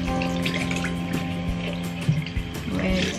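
Running water rinses a detachable StylPro brush head at a sink, a steady close trickle and splash with faint handling knocks and a low humming tone underneath.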